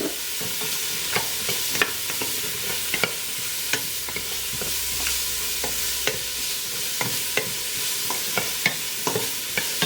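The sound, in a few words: sautéing celery and carrot in a pan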